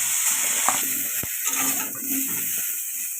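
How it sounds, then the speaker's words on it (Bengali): Kofta balls frying in hot oil in a home kitchen, giving a steady, close hiss of sizzling with a few faint clicks and bumps, and no talking. "কফিগুলো ভালো করে ভেজে নেব"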